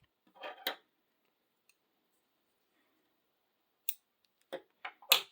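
Scissors snipping crochet yarn after a granny hexagon, a few sharp, close clicks and snips separated by quiet gaps.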